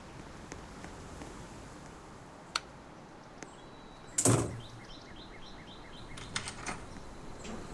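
A bedroom door is shut, giving one loud, close thud followed by a few faint clicks of the lock, with low room noise around it and no talk.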